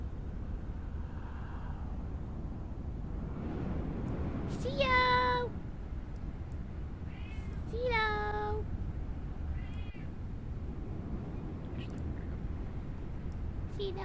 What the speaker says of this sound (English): I'm gonna take care of my screaming cat.